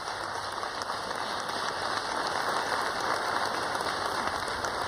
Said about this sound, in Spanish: Un aplauso a las trabajadoras, que fueron la mayoría que hicieron.